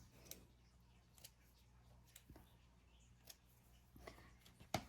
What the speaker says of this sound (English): I think I am going to trim off just, oop, keep pulling. Trim off just a little bit.